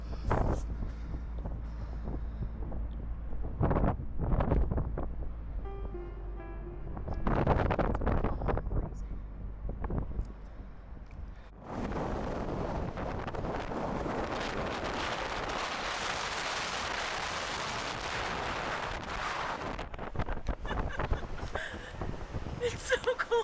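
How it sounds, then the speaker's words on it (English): Strong, gusty wind roars across the top of an old stone monument tower in cold wilderness, buffeting the microphone in loud surging waves, with breathless voices speaking near the start. "It's so cold and windy. It's gusts."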